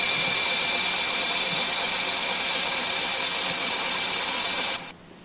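A model CCM9112 machine turning slowly at 500 RPM gives a steady mechanical hum with a constant tonal whine. It runs evenly, then cuts off abruptly just before the end.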